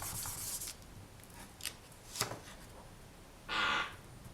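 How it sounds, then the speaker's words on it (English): A sheet of polymer clay is burnished smooth through plain printing paper, making a few short, dry papery rubbing strokes up close in a quiet room, with one longer scrape near the end. "So just burnish a bit to get it nice and smooth."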